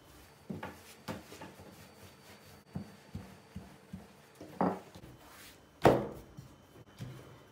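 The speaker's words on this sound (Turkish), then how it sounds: "Yavaş yavaş bastırarak merdane ile fırın tepsinin ölçülerine getireceğiz." Börek dough being rolled out with a rolling pin on a board, a series of soft irregular thumps and rubbing strokes, the last few louder and closer.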